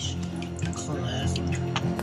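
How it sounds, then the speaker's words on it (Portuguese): Water drips in household plumbing, a soft liquid trickle and dripping heard under a voice talking. "Aqui acho que ainda tem alguma água na canalização"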